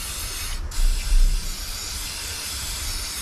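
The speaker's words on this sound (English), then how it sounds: "I'm gonna spray it up with WD-40 to clean it." A short WD-40 aerosol spray hiss bursts out onto a robotic lawn mower, followed by a lingering steady hiss and low rumble in the background.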